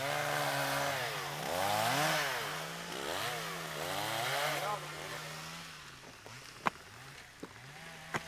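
A chainsaw revs up and down several times nearby in the Baie de Somme, then drops to a lower idle with a few sharp knocks near the end.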